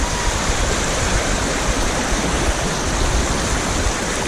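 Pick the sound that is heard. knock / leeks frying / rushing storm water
rushing storm water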